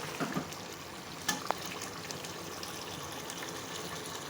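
Mutton gravy masala frying in a pan, a soft continuous sizzle and bubbling hiss heard up close but fairly quiet, with a couple of brief utensil clicks near the start.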